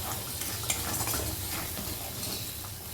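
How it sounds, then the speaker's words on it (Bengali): Poppy seed masala for doi katla fish curry is stir-fried in a pan, a steady close scraping and stirring with a soft sizzle running unbroken throughout. "মশলাটা একদিকে কষা হচ্ছে"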